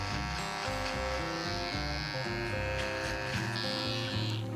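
Electric hair trimmer cutting hair during a fade haircut: a close, continuous buzzing hum that shifts in pitch as the blades move through the hair, with no talking.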